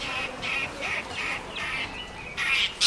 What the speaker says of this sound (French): les bruits des oiseaux et de la nature